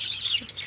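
Chickens cluck in a short burst, a hen's voice close and fairly loud over a faint background, among village hens and ducks kept together as free-range poultry.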